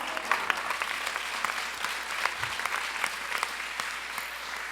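A church congregation at a youth congress applauds, a broad continuous wash of many hands clapping together, steady and fairly even throughout, heard from within the hall.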